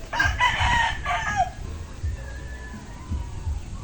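Chickens cluck and call loudly at first, then quieter clucks and rustling continue against a low background murmur.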